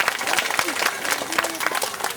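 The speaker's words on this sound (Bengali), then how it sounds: "আপনারা সবাই মিলে একটু জোরে হাততালি দেবেন।" Audience applause at a school's annual cultural function: dense, continuous clapping from many hands that fills the whole stretch at steady strength, with a murmur of voices underneath.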